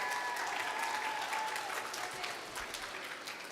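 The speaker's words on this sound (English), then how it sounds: "So give him a round of applause as he comes at this time." An audience at a kids camp claps in dense, steady applause that stays loud and fades slightly toward the end.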